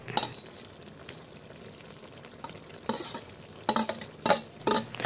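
Fish is stirred in a frying pan as coconut milk cooks for laing, giving low background sizzle broken by several louder bursts of scraping and clattering utensil strokes toward the end.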